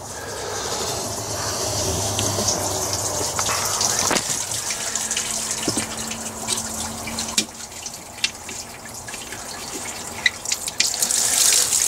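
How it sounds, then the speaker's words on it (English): Water drains out of a boat's plumbing lines during winterizing, a steady, fairly loud gushing and splashing that runs the whole time, with a few scattered knocks and clatters and no voices. "Get these guys drained out and then filled with antifreeze."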